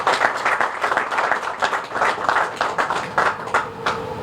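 Audience applause at an outdoor ribbon-cutting event for an affordable housing development, a steady patter of many hands clapping with rhythmic swells, fairly close and without talk.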